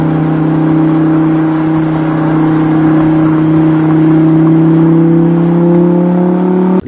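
A steady, loud engine drone from a red supercar holds a sustained pitch that slowly rises, like idling and revving up, ending with a brief bump.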